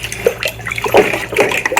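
Water splashing and trickling into a bucket as molasses water is mixed for constipated backyard goats, short uneven pours close by.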